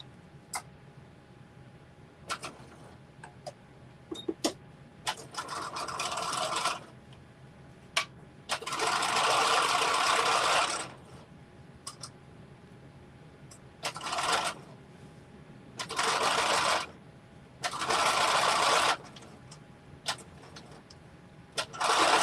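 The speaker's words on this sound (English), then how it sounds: "we'll do the stitch across this top, and then we'll have our finishing stitch." Sewing machine stitching across the top of a jeans pocket, running in loud whirring bursts a few seconds long, separated by pauses filled with small clicks and handling noises, with no talking.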